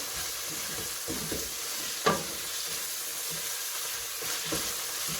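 Minced meat with onion and spices stirred in a hot pan: a steady low sizzle with soft scraping strokes of the spoon and one brief louder knock, no voices.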